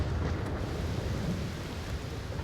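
Thunder and rain from a storm in the video game ALOFT, a steady low rumble with rain noise, continuous and fairly loud throughout, with no voices.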